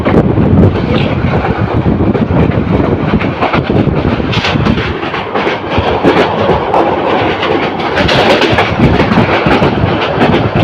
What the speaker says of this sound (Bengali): নরসন্ধি কমিউটার ট্রেনটি দ্রুত গতিতে ক্রস করে যাচ্ছে